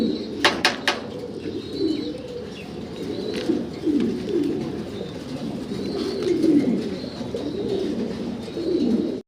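Ring-tagged pigeons at a breeding farm coo in low, rolling, repeated calls close by, with a few brief sharp clicks near the start.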